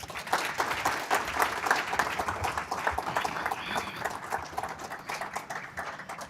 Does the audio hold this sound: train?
no